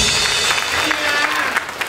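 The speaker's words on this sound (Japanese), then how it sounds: "もう一回拍手。" An audience at a live comedy show claps in a dense, continuous burst of applause that fills the room for a couple of seconds.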